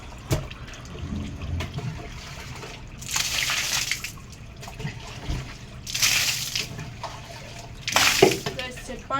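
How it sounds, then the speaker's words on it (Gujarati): Water poured over an old bicycle being washed at home, in several separate splashing bursts close to the microphone, with voices around them. "હવે નાખવાનું છે આપણે પાણી સેજ."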